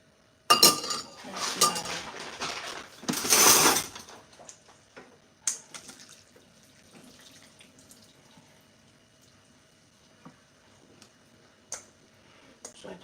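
Water from a pot of boiling spaghetti poured off in a kitchen sink, a loud rushing pour for a few seconds followed by scattered clinks of pots and utensils.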